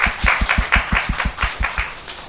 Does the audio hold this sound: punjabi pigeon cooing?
no